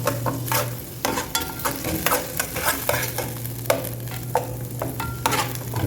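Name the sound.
ground almonds and raisins being stir-fried in a pan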